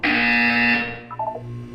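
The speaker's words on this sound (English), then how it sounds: "When you hear the buzzer, look down at the floor." A loud electronic buzzer from the Portal 2 video game's wellness exercise blares for about a second, a harsh steady tone that cuts off abruptly, followed by faint synthetic blips.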